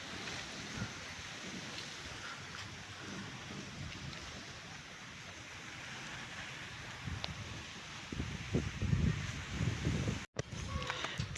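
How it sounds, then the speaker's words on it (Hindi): Heavy storm rain falling over open fields, a steady broadband hiss with gusting wind, quiet and distant, growing rougher and louder near the end. "और बारिश भी तेज़ हो रही है।"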